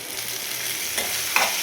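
Tomato puree sautéing in a pan with curry leaves for a mushroom gravy, a steady close hiss of frying broken by a couple of brief scraping stirs, with no voices.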